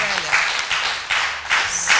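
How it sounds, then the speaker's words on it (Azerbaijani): A studio audience on a talk show breaks into applause for a doctor, bursts of clapping swelling and fading in waves, with voices speaking over it. "Alqışlayaq doktorumuzu."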